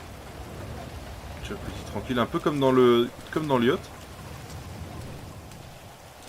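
Rain falls in GTA V as a soft, even patter that runs throughout, while someone talks over the middle part of it.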